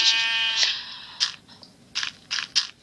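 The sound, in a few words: sheep bleating in Minecraft Pocket Edition video game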